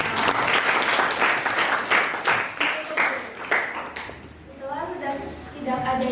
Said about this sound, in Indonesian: kita berikan aplaus untuk kelompok yang pertama